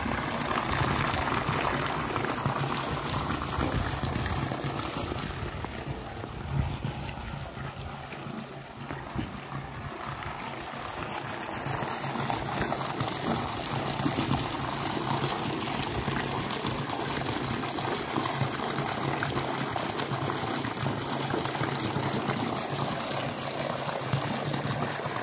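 Water pours steadily into a tank in a continuous rushing, bubbling wash that stays loud and unbroken for the whole stretch, with a faint low hum underneath.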